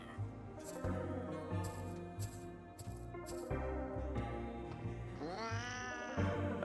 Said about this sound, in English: It's like a zombie kitty.